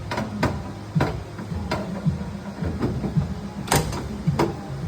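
Rear suicide door of a car with a custom Carson top being opened, giving a run of sharp clicks, knocks and latch rattles at uneven intervals over a low rumbling background, with no talking.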